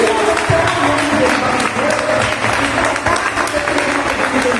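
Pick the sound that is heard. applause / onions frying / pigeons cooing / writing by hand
applause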